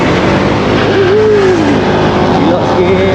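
A Honda Vario 160 ABS 2022 scooter engine hums steadily and loudly throughout, with wind rush and road noise while riding, and a faint higher whine rising and falling in pitch.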